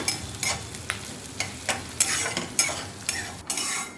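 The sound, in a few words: onions sautéing in a pan for upma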